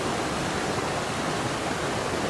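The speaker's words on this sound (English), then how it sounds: "We got a waterfall there, one there." A waterfall roars as a dense, steady broadband rush of falling water, loud and continuous with no voices.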